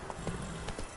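Roach, a horse in The Witcher game, with hooves clip-clopping at a quick pace through a dense, noisy in-game soundscape, the beats loosely spaced over about a second.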